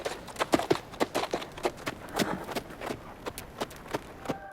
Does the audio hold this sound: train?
no